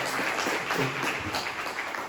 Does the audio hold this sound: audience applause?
yes